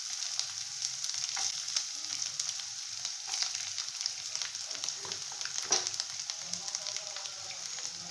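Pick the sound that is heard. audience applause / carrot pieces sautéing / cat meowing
carrot pieces sautéing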